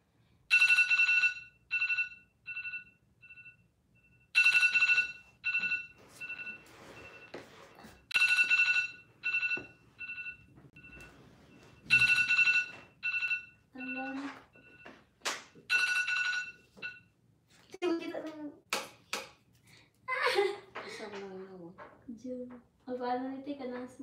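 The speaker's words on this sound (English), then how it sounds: "Alarm, guys, only alarm." A phone alarm rings in four repeated bursts of bright electronic tones, evenly spaced and fairly loud, followed by a person talking.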